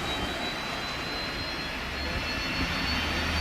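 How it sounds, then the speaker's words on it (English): An aircraft APU spools up in the X-Plane 11 flight simulator aboard a Boeing 767 or 737-800, a steady jet-like roar with a thin high whine running throughout. "APU is firing up here"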